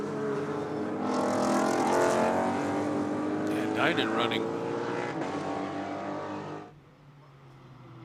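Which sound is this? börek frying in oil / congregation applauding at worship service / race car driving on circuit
race car driving on circuit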